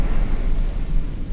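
A Confringo fire spell bursts in Hogwarts Legacy, a loud, sustained low rumbling blast that roars steadily without a break and leaves no clear sharp onset or decay.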